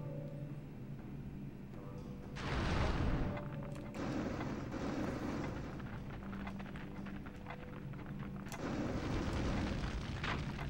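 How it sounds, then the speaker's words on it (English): Spyro the dragon's fire breath in The Legend of Spyro: A New Beginning, two roaring, rushing blasts of flame, one short and one longer near the end, over a low game background hum. "see if you can chase them down with your fire breath"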